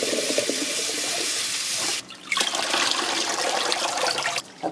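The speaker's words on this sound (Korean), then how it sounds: "이렇게 걸망에다가 미역을 넣고요. 이렇게 바닥바닥 씻어주세요." Soaked miyeok seaweed is washed in a mesh strainer under running water: first a steady gush from the tap, then a short pause, then sloshing and splashing as the seaweed is rubbed, with a few drips.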